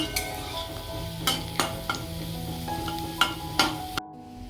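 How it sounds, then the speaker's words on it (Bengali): Cashews and raisins sizzling in a pan beside fried rice, beans and carrots, with a spoon stirring and scraping, several sharp metallic clinks against the pot, then the sound cuts off near the end. "তো এই রাইস বিনস গাজর ভাজার পর এদিকে আমি দিয়ে দিয়েছি কাজু আর কিশমিশটা।"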